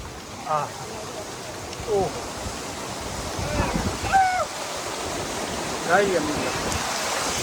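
Rushing water from a mountain stream on Barda hill in Saurashtra roars steadily and close by, while people call out in short bursts over it.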